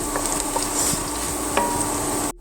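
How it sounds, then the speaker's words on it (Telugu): Ginger garlic paste frying in oil for a dhaba-style egg curry, a steady hissing sizzle with a few faint clicks of stirring, close and continuous until it cuts off abruptly. "జింజర్ గార్లిక్ పేస్ట్ కూడా మొత్తం ఆయిల్లో వేగాలండి"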